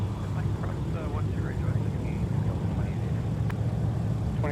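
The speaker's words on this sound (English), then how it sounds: "Here is American Airlines, departing for Dallas Fort Worth with a 737-800." An American Airlines Boeing 737-800 jet departs from Minneapolis–St. Paul airport, its engine rumble a steady low roar heard under a faint, crackly radio voice and some light chirps.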